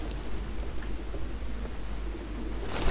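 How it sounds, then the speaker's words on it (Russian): Pigeons coo softly in the video game Detroit: Become Human, low throaty calls blended into a steady ambient hum with a faint rustle near the end and no voices. "Птички какие-то."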